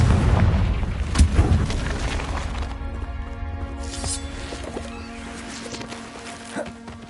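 A Confringo explosion spell cast in a Harry Potter video game bursts with a deep boom early on, then fades into a quieter ringing tail with lingering tonal hum.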